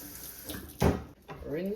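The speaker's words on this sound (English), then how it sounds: "Just gonna add some water in the pot." Water splashes into a cooking pot while a Jamaican cow foot and beans dish is prepared, a short, close pour that swells and then settles into a steady flow.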